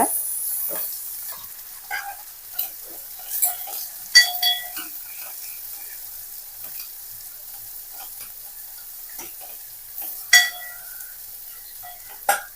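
Dried chillies, small shallots and garlic sauté in a pan as a faint, quiet crackle under sparse sharp clicks and scrapes of a utensil against the pan, with no talking.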